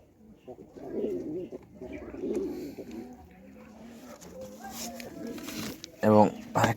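Pigeons cooing in a loft, including a good-breed female, with soft low coos rising and falling through the clip beneath louder handling noises, rustles and a brief burst of fluttering near the end.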